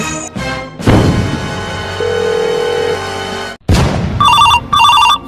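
A loud burst of electronic music gives way to a phone ringtone chiming twice in quick, regular bursts, close and clear.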